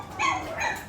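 Puppies at play give short, high yips and barks, two quick bursts close by with a faint background hum.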